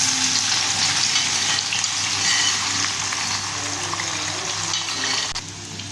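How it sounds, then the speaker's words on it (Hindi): Bitter gourd seeds frying in a karahi, giving a steady, loud broadband sizzle that holds evenly throughout and eases slightly near the end, with no talking. "अब ये बीज जो है इनको फ्राई कर लेते हैं।"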